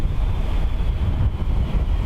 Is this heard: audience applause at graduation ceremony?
no